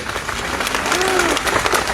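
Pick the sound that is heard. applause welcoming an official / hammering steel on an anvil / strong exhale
applause welcoming an official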